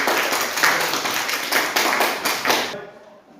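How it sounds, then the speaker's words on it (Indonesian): Classroom audience clapping together in a burst of applause, loud and steady with some uneven hand claps, stopping abruptly near the end. "Mari kita tepuk tangan untuk nomor 5."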